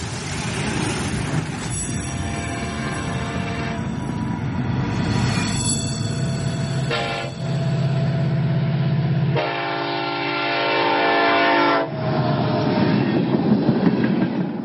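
Oil freight trains with 118 cars at a shipping terminal in Trenton, North Dakota: rumbling wagons and clattering wheels, with horn and whistle blasts sounding in long, sustained tones over the heavy rolling noise.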